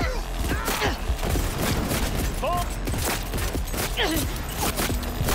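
Gunfire in the video game Cyberpunk 2077, rapid bursts of shots layered with game effects and a constant loud background, with a player talking over the action.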